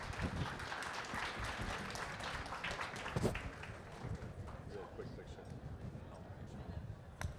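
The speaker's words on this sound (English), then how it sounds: "Please give them another round of applause." Audience applause fills the room at the close of an NFT conference panel in New York, steady clapping under scattered voices and crowd noise throughout.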